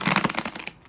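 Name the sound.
shuffling tarot cards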